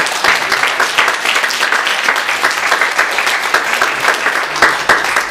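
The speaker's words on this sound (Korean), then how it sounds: "모든 분들에게 우리가 박수로 축하해드리겠습니다." A church congregation claps together to celebrate members' birthdays during a Sunday service, a loud, close, continuous round of applause with slightly pulsing rhythm lasting the whole span.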